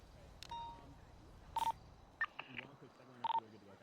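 Telephone keypad dialing tones in a GTA V roleplay game, a few short separate beeps spaced apart over a low, quiet background hum.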